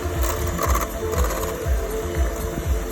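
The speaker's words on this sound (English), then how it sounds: "you've got to whisk these with the cream until it peaks, until it's thick." Cream and eggs being beaten with an electric mixer for a peppermint crisp tart, a loud, continuous whirring motor hum with a steady rhythmic churn, close and alone.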